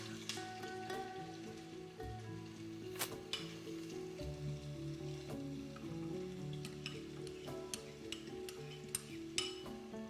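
Onions go into hot oil with cumin seeds in a home kitchen and fry with a soft, steady sizzle, broken by occasional stirring clinks of a utensil against the pan. The sound is faint and close, and nobody talks.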